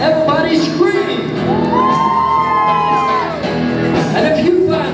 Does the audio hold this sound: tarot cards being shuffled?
no